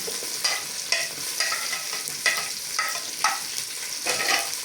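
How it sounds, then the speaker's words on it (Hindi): Tomatoes and green chilies sizzle and crackle in a hot pan while being stirred, with a steady hiss and periodic scraping bursts from the stirring. "अब डालते हैं टमाटर और हरी मिर्ची"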